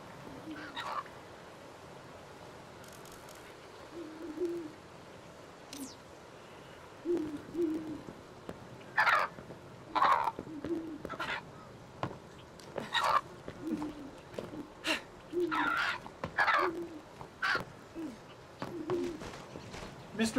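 Bird calls in the video game Creatures of Ava: soft hooting, owl-like notes repeated at irregular intervals over a quiet ambient background, with a person talking in bursts between and over them.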